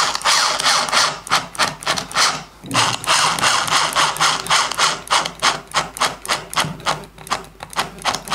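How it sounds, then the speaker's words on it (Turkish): A screwdriver turns a screw that spins freely in a stripped cabinet hinge hole, giving loud, close, rhythmic ratcheting and rasping strokes that repeat continuously with one brief pause. "sıkmaya devam ediyorum ama vida boşa dönüyor"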